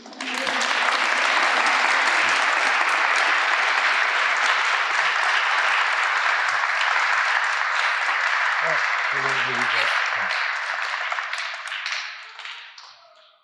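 Sustained, loud audience applause at a community show, a dense wash of many hands clapping that holds steady before tapering off near the end, with a few faint voices underneath.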